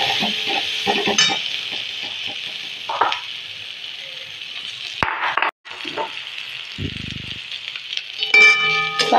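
Vegetables fry in a pan with Maggi sauce and chili sauce, giving a steady close sizzle broken by occasional stirring scrapes and utensil clinks.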